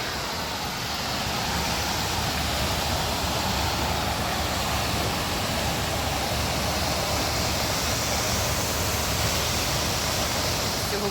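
Fountain water splashes steadily beside a round table at a tea house in Alanya, a dense, even rush that holds at the same loudness throughout with no voices over it.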